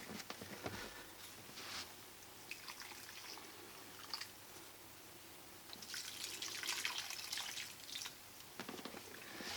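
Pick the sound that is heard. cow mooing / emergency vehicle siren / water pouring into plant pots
water pouring into plant pots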